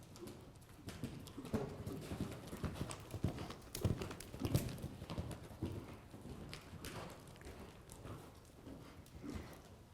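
A horse canters around a jumping course at a show-jumping clinic for 3-foot-plus jumpers, its hoofbeats thudding in a steady, repeating rhythm at moderate distance with faint birdsong in the background.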